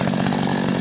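A chainsaw cuts wood by a pond, loud and close, its motor holding one steady buzzing drone the whole time.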